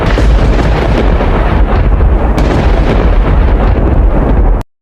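Thunder during rain, a loud, close, continuous low rumble rolling for several seconds before cutting off sharply.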